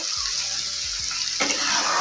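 Ingredients for suji upma fry and get stirred in a pan, giving a close, continuous sizzling hiss with scraping strokes from the stirring.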